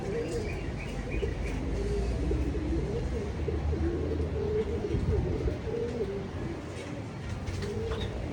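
Racing pigeons coo in repeated soft, low calls from close by, with a few light chirps, over a faint constant background hum.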